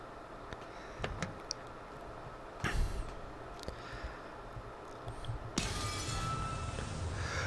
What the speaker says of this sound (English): There was a violent sound of glass breaking